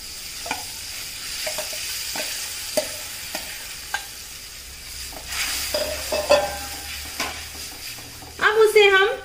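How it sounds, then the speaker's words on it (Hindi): A flat spoon stirs and scrapes besan batter into a simmering drumstick masala gravy in a pot, with steady repeated strokes and soft clicks over a low bubbling sizzle; a brief voice near the end. "अब उसे हम कंटिन्यू हिलाएंगे क्योंकि नहीं तो ये बेसन नीचे चिपकने लगेगा"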